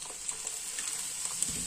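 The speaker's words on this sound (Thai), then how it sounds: "แล้วก็ไปนำลงมาผัดครั้งนึงนะคะ" Fried food being stir-fried in a pan, a steady soft sizzle with small scraping and stirring clicks throughout, fairly quiet and close.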